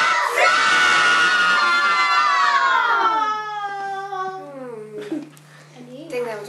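Young schoolchildren in a second-grade classroom call out loudly together in a single sustained group shout, which fades into a lone adult voice talking briefly afterward.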